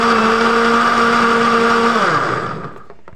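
An electric blender whirs loudly as it blends olives with boiled water and salt for juice, a steady close motor whine that drops in pitch and winds down to a stop.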